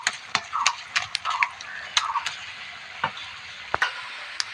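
Melted tomatoes being stirred and mashed with a wooden lentil masher in a pan, giving repeated sharp knocks and scrapes in an uneven rhythm over a soft sizzle, close and moderately loud, with no talking.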